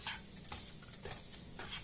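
A spoon stirring and mixing food in a frying pan with soft sizzling underneath, a few scraping strokes at a relaxed, uneven pace, quiet and close.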